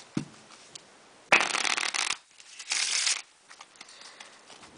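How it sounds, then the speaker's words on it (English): A deck of playing cards riffle-shuffled at close range: two distinct fluttering bursts, the first longer and the second shorter, separated by a short gap and surrounded by quiet handling. "Now the riffle shuffle can be as good or as bad as possible."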